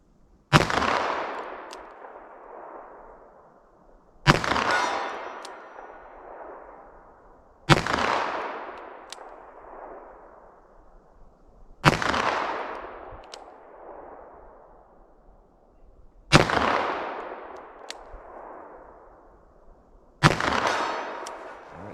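Shots from a 10mm Sig Sauer Elite Defense pistol fired single action, each a sharp crack with a ringing metallic clang that decays over a few seconds, six evenly spaced impacts about four seconds apart, loud and close.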